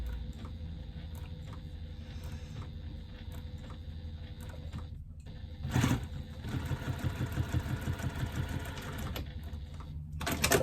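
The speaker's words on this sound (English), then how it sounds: "I will go back and do a second line of top stitching at 1/4 of an inch" A sewing machine runs a line of top stitching along a fabric wrist strap, a close steady mechanical whir with rapid needle chatter that pauses briefly and then resumes faster, with no talking.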